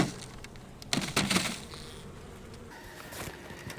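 Honeybees buzz in an opened beehive during a routine hive check, a faint steady hum with brief louder bursts of activity, close by and without talk.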